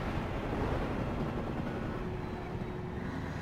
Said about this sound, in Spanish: Eso suena a helicóptero liándola muy fuertemente